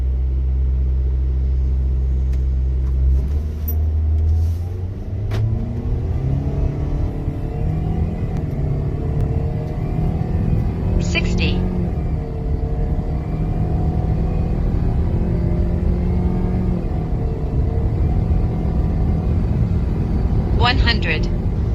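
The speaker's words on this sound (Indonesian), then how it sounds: "jadi kita coba ya 0 ke 100-nya mobil ini berapa detik dengan power mode ya" A 2022 Toyota Veloz in power mode accelerates from standstill toward 100 km/h, its engine rumbling and rising in pitch through several gear changes, with a person talking over the drive inside the cabin.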